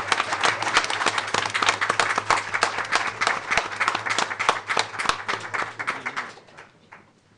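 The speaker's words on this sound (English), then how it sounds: "Let's give Nathaniel another round of applause." Audience applause at a school board of education meeting, a dense sustained clapping crowd with a low steady hum beneath, fading out toward the end.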